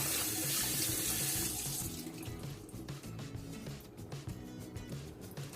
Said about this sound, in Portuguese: A água é corrente.